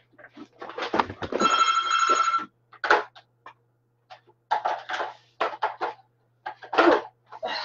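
An old landline telephone bell rings in one sustained burst of a couple of seconds, loud and close, followed by scattered knocks and handling clatter.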